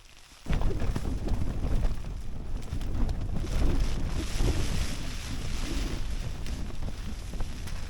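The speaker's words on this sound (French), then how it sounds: "il y a un peu de vent" Wind blows hard around a tent during a solo ski traverse of Norway's Hardangervidda plateau, a steady, loud rushing roar that starts abruptly after a brief quiet moment and continues without letup.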